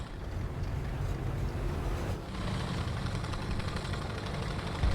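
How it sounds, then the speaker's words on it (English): A steady, mid-pitched engine drone rumbles continuously in a video game, like an idling motor with a slight vibrating throb. It stays constant and fairly loud throughout, with no voices over it. "I guess that's just a new engine noise that I'm not familiar with."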